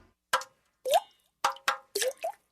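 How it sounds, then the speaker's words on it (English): Water drips from leaking pipes in six distinct, close, hollow plops at uneven intervals, each a resonant drop with a short wet tail and silence between them. "That's the sound of water coming from leaking pipes."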